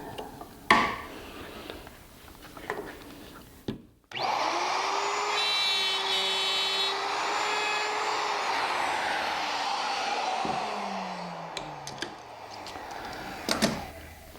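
A router with a dovetail bit cuts a tapered dovetail in wood for a pie safe, starting with a sharp onset, then a loud, steady high whine and grinding roar that holds for about ten seconds, with a few knocks before it begins.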